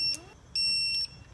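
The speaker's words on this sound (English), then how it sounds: "here we are with the torque wrench, and this is going to be the most annoying part of the video because it will beep" Digital torque wrench used on a BMW F 700 GS motorcycle during gear selector shaft work, giving two sharp high-pitched electronic beeps, the first short and the second about half a second long, loud and close with no talk.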